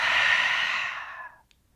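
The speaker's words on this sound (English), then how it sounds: "Lion's breath is amazing." A forceful lion's breath exhale pushed out through the open mouth in a morning yoga routine, a loud breathy rush that fades over about a second, close up with no talk.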